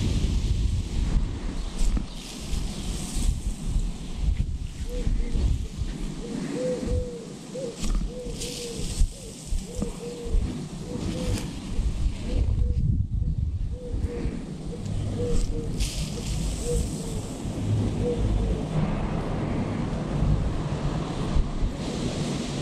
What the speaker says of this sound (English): It's pretty windy right now, so not really good conditions for testing.